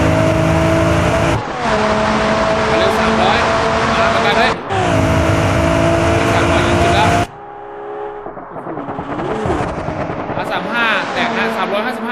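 Race cars, including a GTR, scream at full throttle in BeamNG.drive at about 300 km/h. The engines drone loud and steady with an abrupt cut and a shift, then another engine rises and roars as someone talks excitedly over it.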